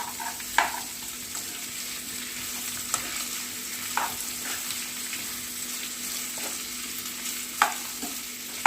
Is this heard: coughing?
no